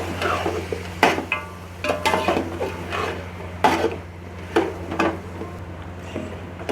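A spoon scraping and clinking against a metal pot while yogurt is mixed into beef yakhni pulao masala, giving irregular close knocks and scrapes over a low steady hum, with no talking.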